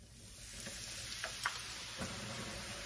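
Shrimp frying in garlic chili oil give a steady, quiet sizzle, with a few light ticks and stirring clinks, and no one speaking.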